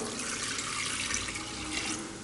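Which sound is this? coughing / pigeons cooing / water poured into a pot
water poured into a pot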